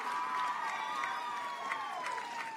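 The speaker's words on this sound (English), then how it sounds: "give a warm round of applause for my friend, Brianna Astorga, who will be singing..." Applause and cheering rise from the audience at a high school graduation ceremony, a faint, steady wash of clapping and crowd noise in a large hall, with no talk over it.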